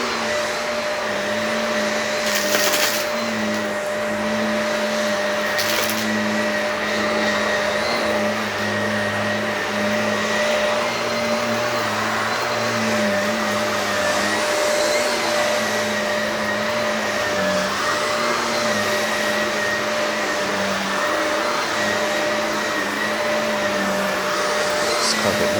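A Shark vacuum cleaner whines steadily over an old carpet in a mobile home, its loud motor drone holding throughout with small shifts in pitch as it passes back and forth.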